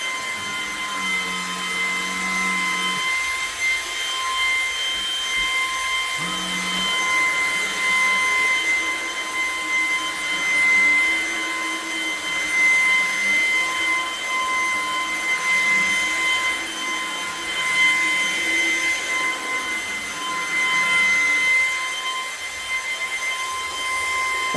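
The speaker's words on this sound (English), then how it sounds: "coming through here and just vacuuming them off" Commercial vacuum cleaner running steadily over rugs in a janitorial account, a constant loud whine with a low motor drone and small shifts as the head passes over matted fibers, with no talk over it.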